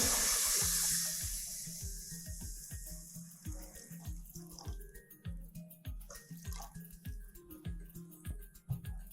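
Half a litre of water poured into a cooking pot for yakhni: a steady, loud splashing gush at first that eases into a burbling, irregular trickle with sloshing pulses, close up and without talking.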